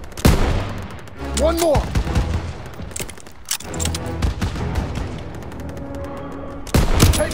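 Gunfire in Call of Duty: WWII during a battle for a French town, with loud bursts of shots and booming blasts on and off under shouted voices and battle noise.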